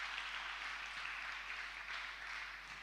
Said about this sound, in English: Please, let's give Girl Up a round of applause.